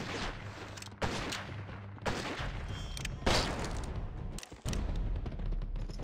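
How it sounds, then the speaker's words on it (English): Repeated heavy gunfire during a bandit attack in the video game GUN, several loud rifle shots spaced about a second apart, with booming reports and echoing tails. "another random bandit attack. Trying out my new sniper rifle."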